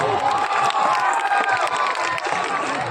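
Audience at a comedy stage show claps and cheers, a dense, steady wash of applause with shouting voices mixed in throughout.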